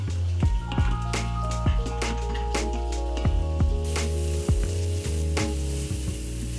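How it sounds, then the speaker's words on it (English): Chopped onions sauté in oil in an Instant Pot on the high sauté setting, giving a loud, steady close-up sizzle broken by regular sharp clicks and scrapes of stirring. "using the saute function on high, cook the onions with oil and saute until lightly browned and the onions are translucent"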